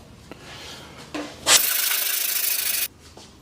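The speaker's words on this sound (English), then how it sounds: "with this sweep as a sanding tool, it's given us the ability to go right up into that corner quite tightly" A sanding sweep rubs by hand against the wheel arch of a BMW E30, a few soft scuffs followed by one loud, sustained abrasive stroke of about a second and a half, close up, with no voices.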